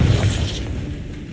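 The Bombarda explosion spell in the Hogwarts Legacy game goes off as a single heavy boom with a bright whooshing burst, fading quickly into a low rumble.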